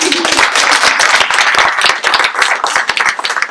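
Theatre audience at a 2016 forum theatre performance claps loudly and briskly, individual hand claps distinct and close, a short sustained burst without speech.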